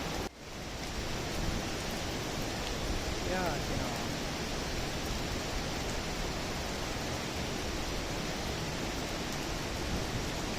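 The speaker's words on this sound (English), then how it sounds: "See the waterfall there?" Waterfall in the Höllentalklamm gorge in Bavaria, a steady dense rushing roar of falling water that stays constant throughout, with no talk.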